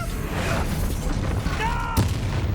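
Explosive spells in Hogwarts Legacy, Bombarda and Confringo, are cast amid a dense battle wash, with one sharp blast standing out near the end, close and loud.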